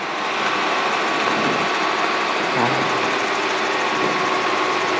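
A helicopter engine during a power-recovery autorotation with the throttle rolled back up, giving a steady, loud mechanical drone with a constant whine running the whole way through.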